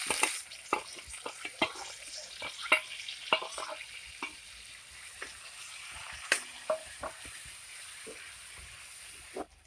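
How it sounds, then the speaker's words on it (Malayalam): Crushed onions fry in coconut oil in an earthenware pan, a close, continuous sizzle broken by frequent scraping clicks and taps of stirring; no voices. "അതേ വെളിച്ചെണ്ണയും തന്നെയാണ് ഉപയോഗിച്ചേക്കണത് അതിലേക്ക് നന്നായിട്ട് ഇത് മൂപ്പിച്ചെടുക്കാം നമുക്ക്"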